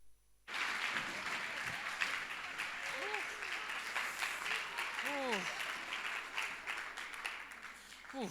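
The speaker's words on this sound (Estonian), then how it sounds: "aplaus, palun" Applause from the audience at a playback singing show bursts in suddenly and continues as sustained clapping, with whoops and voices rising over it.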